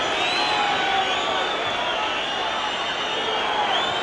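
An unhappy Welsh football crowd in a stadium during Wales against West Germany roars and jeers in a loud, continuous mass of voices, steady throughout.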